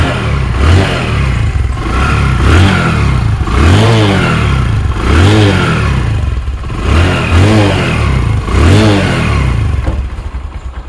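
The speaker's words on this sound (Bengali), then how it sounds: "যদি দেখায় আপনাদেরকে বাইকটির সাউন্ড কন্ডিশন" Bajaj Discover 100cc motorcycle engine revving repeatedly, loud and close, in rhythmic throttle blips about every one and a half seconds over a steady idle.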